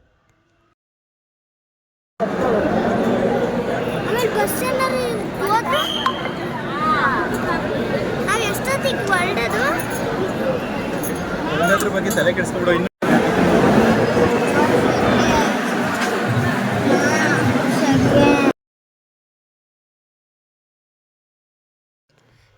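Dense crowd chatter inside the Mantralaya temple, a loud continuous babble of many overlapping voices close around, with one nearby voice talking through it.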